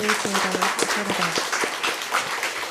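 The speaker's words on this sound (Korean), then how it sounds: "박수." A church congregation applauds after an orchestra and band performance during a worship service. The clapping is a dense, steady patter, with tonal music or voice sounding faintly at the start.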